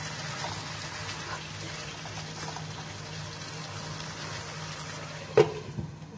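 Potatoes and capsicum simmering in a pan over low heat, a steady quiet bubbling hiss throughout with a brief clink near the end.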